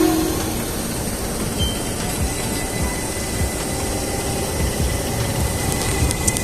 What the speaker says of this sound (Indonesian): Tokyo Metro 6000 jalur 2 berangkat.